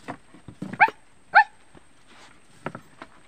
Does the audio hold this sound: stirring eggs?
no